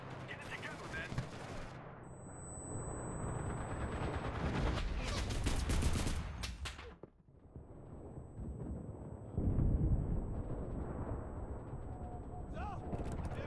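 Artillery and gunfire in the WW2 video game Enlisted: loud sustained barrages of blasts and shots, with a heavy burst around the middle, a brief lull, then renewed firing as voices speak.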